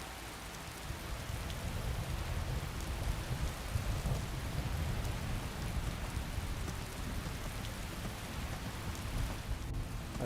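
Steady rain from a Skyrim thunderstorm pours down as a dense, even hiss, with a deep rumble of thunder rolling underneath throughout and no voices.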